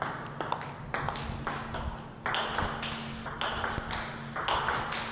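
Glayzer 09C rubber on a table tennis bat in a drive-on-drive rally, with a steady run of sharp ball pings off bat and table, close and bright with no voices.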